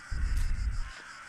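Crows caw in the game The Last Door, a loud close cluster of harsh calls over roughly one second before fading into a thin background hiss, no voices.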